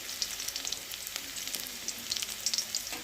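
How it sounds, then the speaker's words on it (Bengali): Onions sizzle in hot mustard oil, a continuous close frying hiss dotted with small crackles and pops, heard alone without any talking. "আমি পেঁয়াজটা ভালো করে ভেজে নেব"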